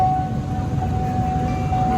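Steady low rumble of a train rolling past nearby, with a thin constant high whine riding over the continuous rail noise.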